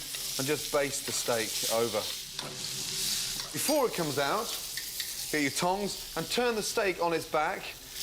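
Steak fat renders in a frying pan with a continuous bright sizzle and hiss, while someone talks over it almost the whole time.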